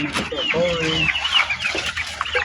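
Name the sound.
chickens clucking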